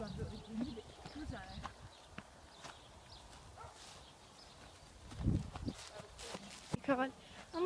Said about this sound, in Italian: Il ranch dei cavalli.